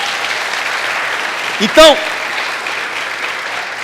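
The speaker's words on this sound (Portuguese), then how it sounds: "Quem pode aplaudir o nome de Jesus?" Church congregation applauding, a steady wash of clapping that runs through the whole stretch, with a short spoken word from a man breaking in near the middle.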